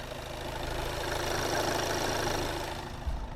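A Volkswagen Golf engine runs steadily in a workshop, a continuous close mechanical drone with a slightly noisy, rattly edge, unbroken for a few seconds without talk.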